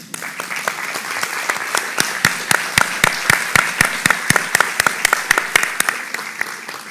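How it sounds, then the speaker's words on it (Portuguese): Clapping rings out at a book talk as the audience applauds a father seated in the front row, loud and close, individual claps standing out in a quick, fairly regular rhythm over a softer bed of wider applause. "uma salva de palmas para ele"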